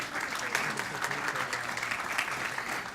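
A luncheon audience gives a steady, even round of applause for elementary teachers of the year, filling the room with continuous clapping throughout.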